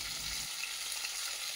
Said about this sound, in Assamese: মাছৰ মূৰফাল ভাজি লওঁ